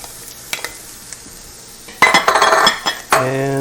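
A pot that just browned beef brisket takes added onion: a few faint clinks of utensils, then a loud burst of sizzling and clattering, with a brief voice at the end.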